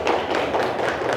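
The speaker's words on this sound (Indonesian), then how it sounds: "Kita kasih tepuk tangan untuk kelompok 1." A classroom group of students applauds a group's performance in a quick burst of dense, continuous clapping, close and fairly loud, with no distinct voices.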